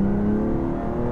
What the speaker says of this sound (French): Alors avec la nouvelle ligne d'échappement, le son est beaucoup plus rauque.